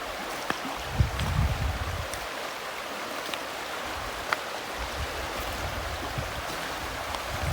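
Clear stream water flowing through English woodland, a soft, continuous babbling wash heard fairly close with a brief low bump near the start and no talk.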